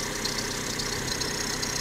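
A 2001-2006 Vauxhall Corsa engine idling, a steady, even drone with a faint regular pulse, close and fairly loud, with no talk.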